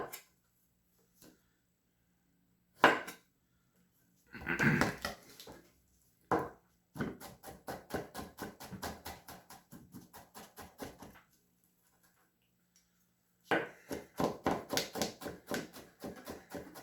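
Peeled garlic being chopped with a knife on a board, heard as a few isolated knocks followed by a rapid, steady run of crisp close taps, a pause, then another quick burst of chopping.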